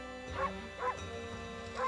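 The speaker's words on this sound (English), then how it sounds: "I forgot there's a bark button." A cartoon wolf in the Okami video game gives three short, yappy barks at a steady pace, close and clear over quiet background game music.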